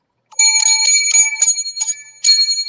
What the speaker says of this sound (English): 7 lucky bells for the evil spirits